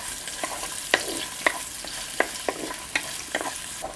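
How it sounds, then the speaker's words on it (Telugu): Chopped onion dropped into hot oil with cinnamon, cardamom and cloves for Hyderabadi mutton dalcha, frying with a steady broadband sizzle punctuated by sharp spoon-on-pan clinks every half second or so, close and alone. "వెంటనే కోసి పెట్టుకున్న ఒక ఉల్లిపాయ ముక్కలు వేసేసుకుందాం"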